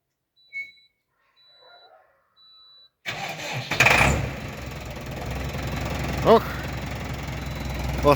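A Fiat car engine cranks and fires after a few quiet clicks, then settles into a close, rumbling idle with a brief rev partway through.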